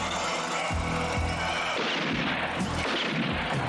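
Loud, continuous bursts of gunfire crackle and boom without pause, dense and chaotic like a firefight, with no voices heard.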